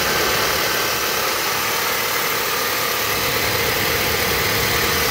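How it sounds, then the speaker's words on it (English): A 2007 Honda Element SC engine idles steadily, a close, even mid-pitched hum with a faint rhythmic vibration and no voices over it. "motor sounds good."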